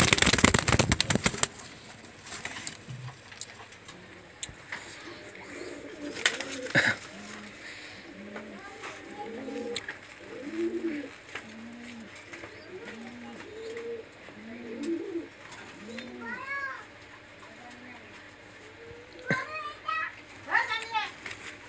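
Pakistani highflyer Teddy Kamagar pigeons coo in a steady run of soft, low, rounded calls, repeating every second or so at close range; a burst of handling noise opens the scene and a few higher chirps come near the end.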